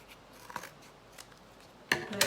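Scissors snip through card from the reverse side, a few quiet close cuts, with a louder pair of crisp snips at the end.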